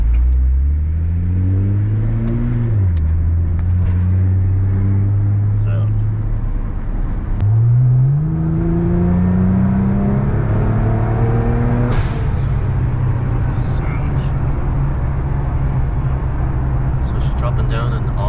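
A Nissan R35 GT-R engine revs up through the paddle-shifted gears, pitch climbing and dropping with each shift, loud and close, alongside road noise.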